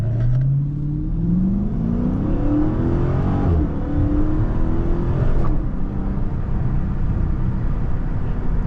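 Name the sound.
Dodge Challenger Scat Pack engine revving loudly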